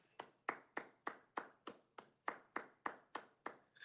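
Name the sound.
clapping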